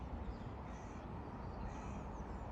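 A crow caws outdoors in a park in Bath, two harsh calls standing out over steady outdoor background noise and wind, fairly close.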